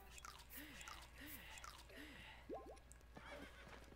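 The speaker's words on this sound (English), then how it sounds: "Leave my horse alone" A horse in the video game Breath of the Wild gives several short, rising whinnies in quick succession, followed by a brief louder snort-like burst, all fairly faint against a low background.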